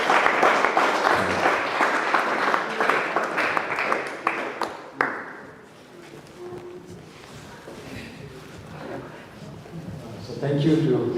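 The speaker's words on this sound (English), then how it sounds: "Can we give a big round of applause to the Father," An audience at a school motivation event bursts into dense, loud applause that fades after about five seconds, followed by murmuring and a brief swell of clapping again near the end.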